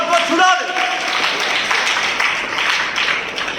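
A church congregation claps together, dense and steady applause filling the space at close range for a few seconds with no pauses.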